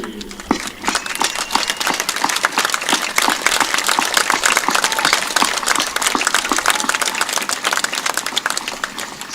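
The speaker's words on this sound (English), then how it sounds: "please, if you are able, stand and give a round of applause for an outstanding school year" Dense, sustained applause from a large audience at a high school graduation ceremony, crisp rapid clapping steady throughout and heard close and alone.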